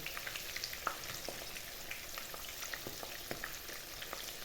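Quiet, steady sizzling of chicken gizzards frying in a pan, with small pops and crackles scattered throughout and no talking.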